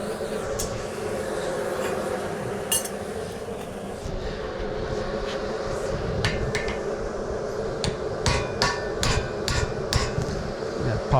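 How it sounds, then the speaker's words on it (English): Sharp metallic hammer strikes ring out irregularly over a steady background roar while an integral guard is forged onto a Damascus hunting knife, with clusters of quick blows in the second half. "I'm going to try and hammer that in just a little bit"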